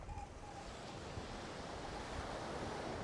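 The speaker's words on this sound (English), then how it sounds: "oh, that wind's crazy, blowing my head off." Strong wind gusting on a stormy sea shore at Trimingham, a steady broadband roar blending with breaking surf, loud and continuous with no voices.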